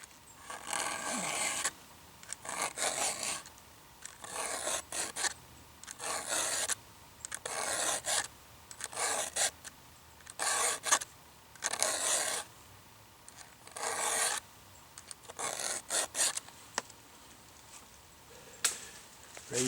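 A hand file sharpens a chainsaw chain tooth by tooth, with short rasping strokes in irregular bursts and brief pauses between them, close and moderately loud, with no talking.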